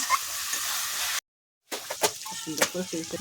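Spice paste frying in oil in a pan for a jackfruit and prawn curry, a loud steady sizzle with stirring scrapes, briefly cut off by a gap of silence before resuming.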